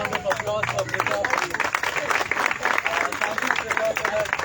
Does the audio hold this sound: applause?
yes